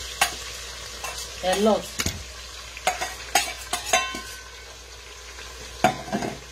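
Onions sizzle and fry in a pot while being stirred, cooking for kidney beans, with crackling sizzle under scraping stirs and clinks, close and fairly loud, as someone speaks briefly.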